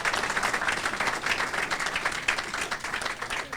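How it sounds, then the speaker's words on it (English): A crowd at a Waterbury hall of fame induction ceremony in 2023 applauds in a sustained, even wash of many hands clapping. It is moderately loud and fills the whole stretch, with no talk over it. "So a big round of applause for everyone who's not on the plaque."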